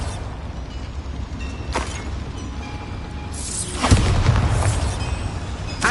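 The Bombarda spell in Hogwarts Legacy goes off as a deep booming blast with crackling debris, preceded by a sharp earlier crack over steady game ambience.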